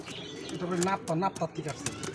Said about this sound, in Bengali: এটা খুবই একটা হাইপার কবুতর